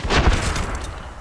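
An indirect fire strike in the video game Medal of Honor Warfighter lands as a loud, brief burst of explosive booms and crackling gunfire that fades within about a second.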